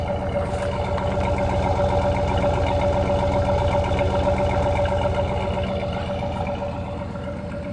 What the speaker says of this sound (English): let me let you hear the engine